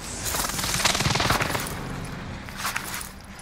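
Warzone gunfire crackles in a dense, rapid burst of automatic shots at mid distance, fading and then returning briefly with a few more shots, with no talk over it.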